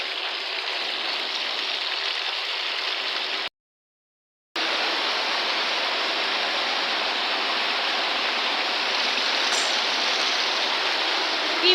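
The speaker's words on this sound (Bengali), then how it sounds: "মুসলধারে বৃষ্টি হচ্ছে" Heavy rain pours down in a dense, steady hiss, broken once by a short silent gap before resuming at full strength.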